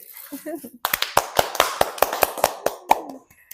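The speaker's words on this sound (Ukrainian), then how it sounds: "Оплески!" A brief spoken phrase gives way to a small group clapping at a children's session on unusual musical instruments, sharp, fairly regular claps close by, about a dozen in a row before trailing off.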